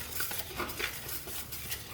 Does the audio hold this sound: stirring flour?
yes